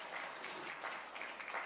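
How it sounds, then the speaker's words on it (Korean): A church congregation at a Sunday worship service claps in praise, a dense, even patter of many hands heard at moderate distance for a brief moment. "우리 하나님께 영광의 박수 올려드리겠습니다."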